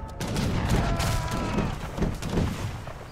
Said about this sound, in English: Oh, he's got cannons now. See, he's going in. That wall's going down.